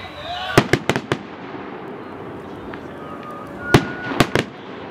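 Canada Day fireworks on Salt Spring Island crack in quick bursts, three or four sharp bangs close together near the start and another cluster near the end. Soft crackle and faint background noise fill the gaps between them.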